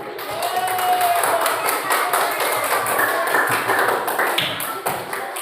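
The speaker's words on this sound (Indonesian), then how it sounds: "tepuk tangan untuk kelompok 1" A group of students in an elementary school classroom in East Lombok, Indonesia, claps together in a brisk, continuous patter of hands, with some background voices mixed in.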